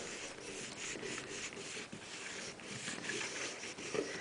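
A bar of sharpening compound is rubbed onto a leather strop in soft, repeated scraping strokes, faint and close.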